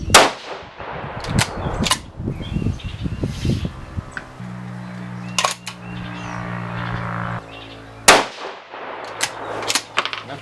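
Several sharp, loud shots from a 6 ARC rifle firing Nosler RDF rounds on an outdoor range, spaced a few seconds apart, each a sudden crack with a short decaying tail and a quieter mechanical hum in between.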